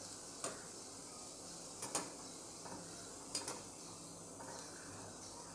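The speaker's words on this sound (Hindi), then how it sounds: "एक मिनट हो गया है जब ये हो जाता है तो अपने आप ऊपर आ जाता है अब इसे हम पलट देंगे" Potato smileys being turned over in a frying pan of oil, a steady faint sizzle with several light metal clinks from the utensil against the pan, no talking.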